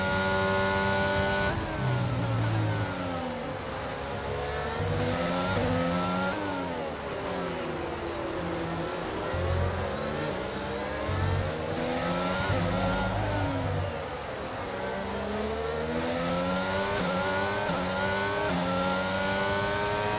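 An F1 22 race car roars around the Mexican Grand Prix circuit in the video game, its high-revving engine repeatedly climbing and dropping through gear shifts for the full twenty seconds, loud and close.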